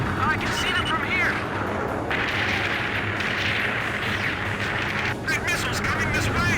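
Enemy gunfire and artillery from below in Ace Combat 5: The Unsung War make a dense, continuous rumbling barrage, with brief game voices over it.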